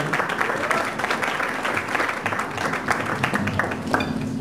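Audience applause welcoming a guest speaker at a live events talk, a dense, steady wash of clapping sustained throughout with a faint murmur of voices mixed in.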